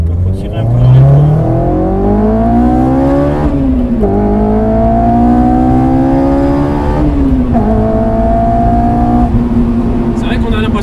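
A Japanese sports car's engine revs hard while driving, its pitch climbing steadily through the gears with brief drops at each shift, loud and close throughout.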